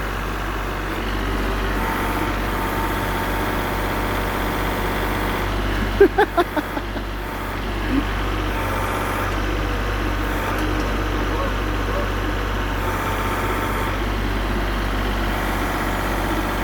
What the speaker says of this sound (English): she's learning how to use the backhoe